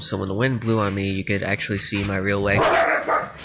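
Dogs barking close by in several sharp, loud bursts, overlapping a person talking steadily.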